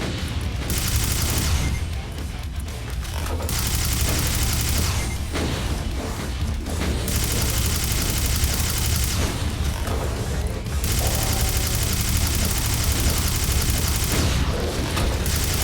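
Rapid bursts of plasma gun fire from the video game Final Scourge, loud and dense, running in long sustained volleys broken by brief pauses, with no talk over it.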